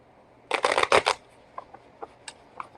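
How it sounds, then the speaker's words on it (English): A deck of cards is riffle-shuffled close by during a live card reading, a quick burst of crisp flutters followed by a few soft taps and squaring clicks as the deck settles. "let me shuffle these up"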